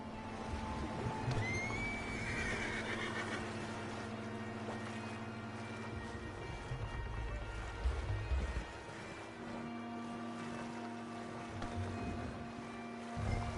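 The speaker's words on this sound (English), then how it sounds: "The horses are confused. We need to round them up." Horses whinny and neigh in a Red Dead Redemption 2 game scene, a couple of shrill calls standing out over a low rumbling ambience with faint hoof and movement noises.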